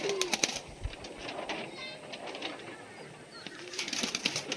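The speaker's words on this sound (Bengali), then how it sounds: "এই পায়রা ছেড়েছি।" A released pigeon flaps its wings in fluttering bursts, faint and close, with soft cooing and scattered rustling and tapping around it.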